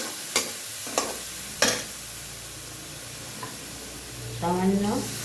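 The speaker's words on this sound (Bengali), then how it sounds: "জলটা দিয়ে মশলাটা কষাবো" Spice masala with added water is cooked down in a pan, a low steady sizzle marked by three sharp stirring scrapes early on, and a brief spoken word near the end.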